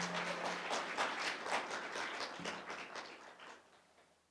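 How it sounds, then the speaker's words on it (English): Faint applause rises from the audience at a community meet-up in Laramie. It is a soft, steady patter of clapping that tapers away toward the end, with no talking over it. "Big round of applause for Ken."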